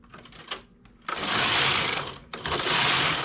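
A knitting machine carriage is pushed across the needle bed for two rows of lace-pattern knitting, giving two long, loud, steady rushing passes, each about a second long, preceded by quieter clicks of needle setting.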